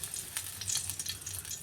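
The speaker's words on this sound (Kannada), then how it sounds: "ಇದೇ ಬಾಣಲೆಯಲ್ಲಿ ನಾನು ಒಗ್ಗರಣೆ ಹಾಕ್ತೀನಿ" About two spoons of oil sizzle quietly in a kadai, heated for tempering spices for a fenugreek kootu. A soft, steady crackling hiss runs for under two seconds with no voices.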